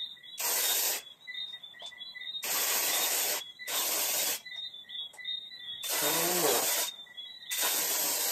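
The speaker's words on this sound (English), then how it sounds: "Trying to point this spray down away from those other parts." Spray paint hisses in bursts onto parts being prepared for hydrodipping, six loud close blasts of varying length separated by short pauses, with a faint high chirping background between them.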